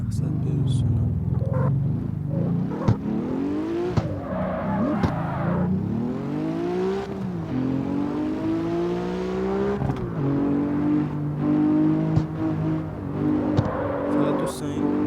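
A car engine drones and revs through gear changes in the X Street driving video game, steady and continuous with rising and falling pitch, while someone talks over it throughout.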